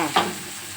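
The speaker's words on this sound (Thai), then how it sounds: "ผัดพริกให้หอมก่อนค่ะ เราก็ผัดพริกให้หอมก่อนนะคะ" Chilies are stir-fried in a pan for Thai squid basil stir-fry, with one short scrape of a spatula over a steady hiss of hot oil.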